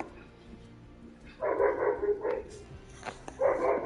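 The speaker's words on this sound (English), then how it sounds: "you can hear the dog barking" A dog barks several times in quick bursts, close and fairly loud, after a quiet stretch of low background hum.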